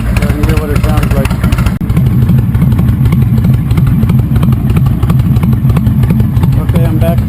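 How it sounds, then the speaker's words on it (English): A 2005 Honda VTX 1300 motorcycle fitted with Cobra Longshots exhaust idles up close, a loud, steady low rumble with a throbbing pulse throughout, with a person's voice briefly over it near the start and end. "This is what it sounds like idling. It's idling now."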